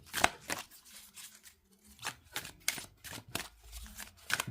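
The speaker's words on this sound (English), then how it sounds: "So, let's give these cards a shuffle." Shiny Craft Felt Tarot cards being given an overhand shuffle, a series of quick riffling, papery bursts in uneven rhythm, close and fairly soft, with no talk.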